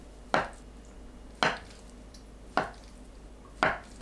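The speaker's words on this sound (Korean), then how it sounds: "씻은 두부는 물기를 닦고 한입 크기로 썰어주세요" Washed tofu is sliced into bite-size pieces with a knife on a board, four separate, evenly spaced cuts landing about a second apart, close and fairly quiet.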